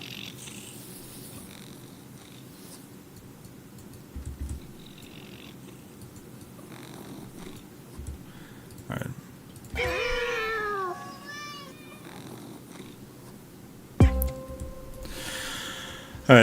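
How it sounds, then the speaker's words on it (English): A cat purrs steadily, with a few meows rising over the rumble near the end and a brief spoken word. "I want the purring to be louder."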